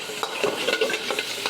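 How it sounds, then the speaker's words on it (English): Tofu chunks and garlic sizzle steadily in a hot pan over high heat, with repeated scraping stir strokes from a utensil. The strokes come at a quick, uneven rhythm, close and fairly loud. "One reason why I'm stir frying a lot is because I don't want that garlic to burn"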